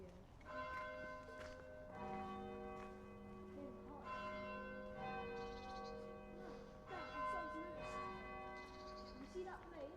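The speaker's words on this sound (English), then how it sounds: "Whenever a plane flies past, the bell goes." A church bell rings repeatedly, its sustained, overlapping tones ringing on throughout, with faint voices in the background.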